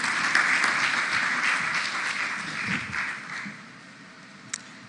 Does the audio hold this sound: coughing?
no